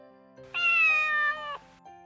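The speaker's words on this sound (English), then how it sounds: "Cat." Cat letting out a single drawn-out, clear meow lasting about a second, close and alone over soft background music.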